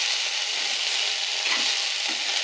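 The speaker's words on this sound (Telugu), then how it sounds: "ఇప్పుడు ఈ బెండకాయలు దీంట్లో షిఫ్ట్ చేద్దాం. ఇంకా బెండకాయలన్నీ షిఫ్ట్ చేసినాం. బాగా కలపాలా." Okra (bendakaya) stir-fried in a pan with salt, chili powder and coriander powder, giving a dense, bright, steady sizzle close up with faint stirring scrapes and no talking.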